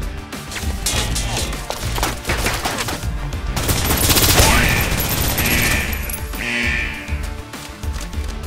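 Suppressive gunfire in the video game Snowbreak Containment Zone, dense rapid automatic shots with splintering impacts, loud and continuous for several seconds and peaking near the middle.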